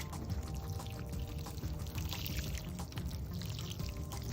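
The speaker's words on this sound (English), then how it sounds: "And now I'm gonna water it." Water pouring onto soil while watering a freshly planted purple potato, a close, steady splashing gurgle that runs without a break.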